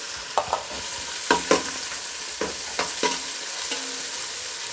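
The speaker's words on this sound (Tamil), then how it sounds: "இப்போ தக்காளி நல்லா வதங்கட்டும்." Tomato and onion frying in a pan for a goat blood curry, with a utensil scraping and tapping the pan several times over a soft, steady sizzle; no one talks.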